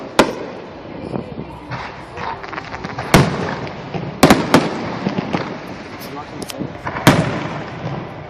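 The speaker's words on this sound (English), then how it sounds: "This is 7 minutes of fireworks." Fireworks show after an A's versus Blue Jays baseball game: sharp booming bursts at irregular intervals, some loud and close, others distant crackles, over steady crowd murmur and talk.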